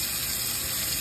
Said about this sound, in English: I'm actually going to rinse it in the sink because I wanna get that white off of there.